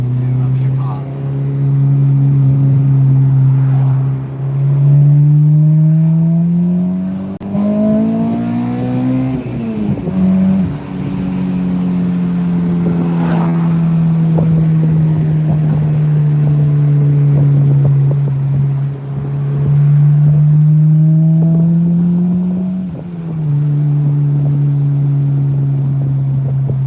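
Honda Integra Type R with a K20A engine pulling at full throttle, a loud droning engine note that climbs in pitch through several gears with brief dips at shifts, while a person talks over it.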